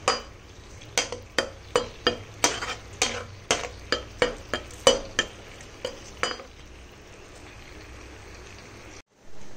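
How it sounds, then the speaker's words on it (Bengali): Ginger garlic paste cooking with sauces in a pan for soya chunk 65, a spoon scraping and stirring in about a dozen regular strokes over a soft sizzle, then the stirring stops and only a quiet fry remains. "এবারে পেস্টটাও এখানে একটুখানি এই সসগুলোর সঙ্গে রান্না হয়ে যাক।"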